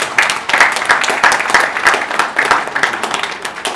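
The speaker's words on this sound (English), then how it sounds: "please give me a round of applause" A live audience at a speaking event gives a steady round of applause, dense and continuous clapping throughout with no speech over it.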